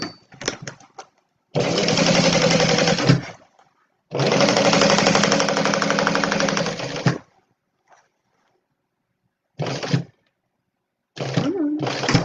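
A sewing machine stitches a Stella Weekender bag in bursts: two long runs of fast, steady mechanical whirring, then a few short stops and starts separated by silence, fairly close and loud.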